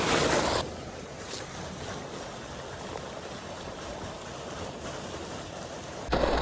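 Water rushes fast over and into a pond standpipe drain, running about four inches above the pipe on a dammed 4.5-acre pond, a steady broadband roar with louder splashing bursts at the start and end.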